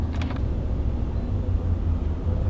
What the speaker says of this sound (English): So the car is idling kind of weird